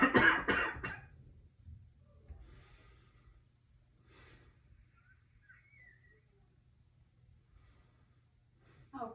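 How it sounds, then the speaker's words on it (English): A patient coughs near the start of a deep breath during a physical exam, a short harsh burst, followed by faint, quiet breathing and a soft sound at the end. "I noticed you were coughing when you took a deep breath"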